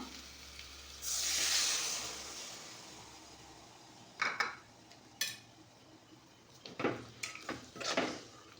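A burst of hissing sizzle as tamarind water hits a hot pan while making a dried-fish curry, followed by scattered clinks and scrapes of utensils against cookware.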